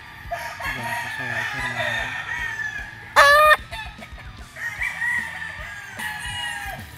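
A Kelso gamefowl rooster on a game farm crows loudly once in a sharp, close burst, between softer clucking and other fowl calls that run throughout.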